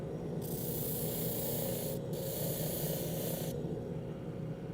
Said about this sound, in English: Since it hasn't been sanded yet, I didn't do it with 80, I'm doing it with 150.